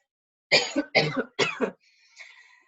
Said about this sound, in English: I'm just going to go and cough quietly somewhere else for a minute